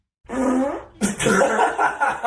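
A voice imitates a fart noise, a short buzzing blurt followed by a longer, louder sputtering burst, close and alone without other talk.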